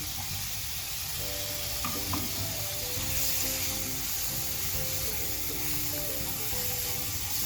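Carrots, capsicum and cabbage stir-fried in a hot pan for a chicken bun patty filling give a steady, close sizzle, with light scraping of a spatula running through it. No voices are present.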